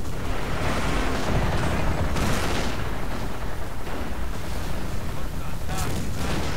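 Artillery cannons boom in rapid, dense bursts during a Company of Heroes battle, loud and continuous with overlapping blasts and rumble, while a person talks over the gunfire.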